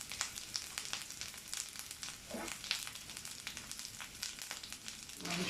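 Meat frying in a pan with ground coriander, cumin and chili powder, a steady close sizzle with scattered crackles and pops throughout, no talking.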